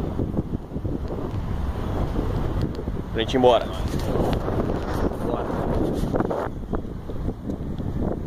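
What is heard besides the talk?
strong wind on Copacabana beach, Rio de Janeiro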